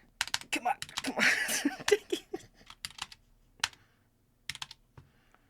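Rapid clattering keystrokes on a computer keyboard during a typing speed test, dense at first and then thinning to sparse taps, with some soft laughter mixed in.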